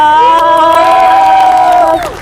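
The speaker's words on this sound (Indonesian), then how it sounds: "Tepuk tangan dong." A sustained, tonal whoop of cheering rises from an audience at a university talk-show event, steady for about two seconds before trailing off, with no distinct clapping.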